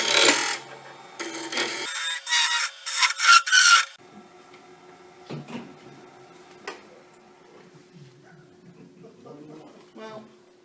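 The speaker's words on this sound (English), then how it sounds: "you sand down the edges" Hand filing along the edges of a handmade wand, a few bursts of harsh rasping scrapes up close, then quieter scattered taps and light handling noises.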